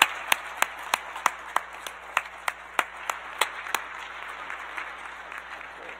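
Applause at a university physics and astronomy senior celebration for graduates: a sustained crowd wash of clapping with one close, sharp clapper beating a regular rhythm that stops partway, while the rest fades out softly.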